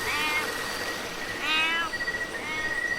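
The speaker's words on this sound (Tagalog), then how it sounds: "Sinamahan tayo ng isang pusa, guys." A cat meows several times in short, high, wavering calls with brief pauses between them, fairly close over a steady background hum.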